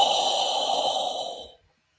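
Breath-only exhaled "ho" from a breathing exercise: one steady, airy, voiceless outbreath close to the mic, lasting about a second and a half before tapering into silence.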